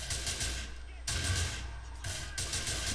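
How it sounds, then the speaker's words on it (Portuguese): Gunfire in the video game GTA IV, shots cracking in broadband bursts over a low rumble that drops out twice, with speech faintly mixed in. "Parece ter alguém atirando ali."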